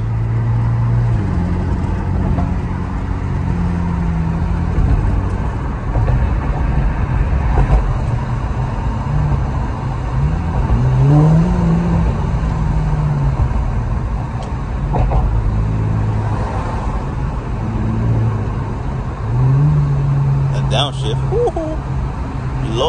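A car accelerating through New York streets, its engine note climbing and then dropping back as the automatic transmission shifts down, all under a steady close road rumble.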